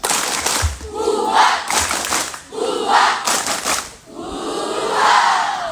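A crowd of schoolchildren at a morning gymnastics gathering repeats a patterned spirit clap, crisp collective claps punctuated by rising chanted yells, four or five loud, near bursts in quick rhythm.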